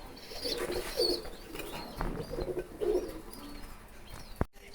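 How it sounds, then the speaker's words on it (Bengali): Racing pigeons coo at a farm loft, with several soft, throaty rolling coos rising and falling in repeated bursts, moderately close, over a steady background hum and a brief knock near the end. "আর দুইটা ফুটফুটে বাচ্চা সহকারে দেখেন কবুতরটা আছে"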